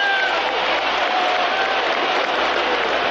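Stadium crowd at the 2006 AFC Championship, Patriots at Colts, reacting to a penalty: a dense, steady roar of voices and cheering that fills the whole clip without letup.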